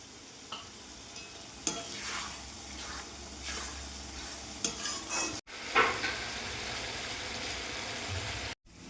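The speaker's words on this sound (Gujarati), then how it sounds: "લસણ ડુંગળી થોડું શેકાઈ ગયું છે હવે આપણે ટામેટાની પ્યુરીને એડ કરીશું" Tomato puree frying with garlic and onion in a pan for Gujarati tuver totha, a steady close sizzle under repeated scraping strokes of a spoon stirring, with a few sharper clinks along the way.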